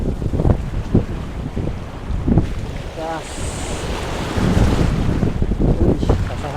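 Wind blows steadily and buffets the microphone on a small fishing boat out at sea in the evening, with water sounds and someone speaking briefly.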